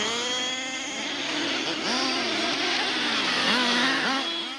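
Several model racing cars whine around a miniature track, their high electric motor pitches rising and falling in sweeping arcs as they brake into and accelerate out of a tight bend, steady and close with no talk.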